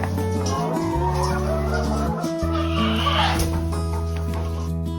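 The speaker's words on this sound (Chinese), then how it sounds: "哇，好大的一只老母鸡啊！" A big old hen clucks in a mountain setting, a loud, close, continuous run of tonal calls.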